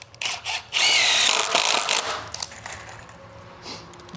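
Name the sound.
power drill driving screws into wooden chicken coop board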